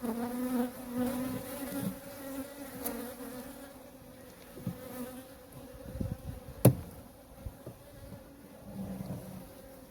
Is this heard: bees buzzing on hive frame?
yes